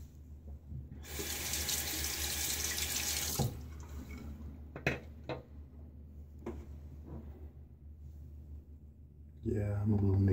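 Water runs steadily from a bathroom tap as a face is rinsed after a shave with a Gillette Super Speed razor and Gillette Silver Blue blade, loud and continuous for a couple of seconds, then clinks and handling noises and a brief renewed splash.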